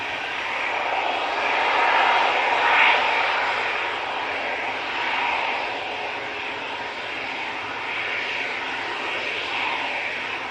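Jet engines of an easyJet airliner give a steady, fairly loud whooshing roar with a slight swell near the start, holding constant with no talk over it.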